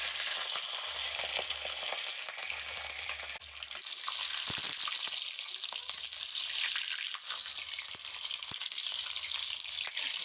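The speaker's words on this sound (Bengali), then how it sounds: "কড়াইটা তেবে গেছে ভালোভাবে তেলটা এবার দিয়ে দেবো মাছের মাথাটা" A rohu fish head fries in hot oil in a wok, with a loud, continuous close sizzle and a few occasional clinks and stirs.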